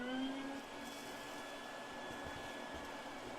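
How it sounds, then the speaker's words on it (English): A vacuum cleaner runs steadily close by, sucking up dust brushed out of a vent, with a constant whining drone and a slight dip in level at the start. "now we can simply vacuum it up"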